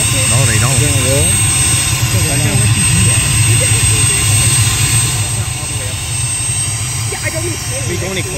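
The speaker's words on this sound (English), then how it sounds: "it's a military helicopter" A Black Hawk military helicopter taking off at a high school makes a loud, close, constant rotor-and-engine roar, while people talk over it throughout.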